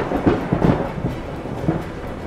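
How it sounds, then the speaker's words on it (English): A severe thunderstorm intensifying over Connecticut, with heavy water pouring through: deep, rolling rumbles of thunder swell and fade several times over steady broadband rain-like noise, loud and fairly close, with no voices. "This storm really has intensified."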